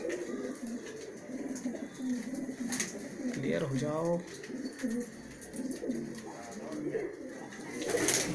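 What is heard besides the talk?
Malwai pigeons cooing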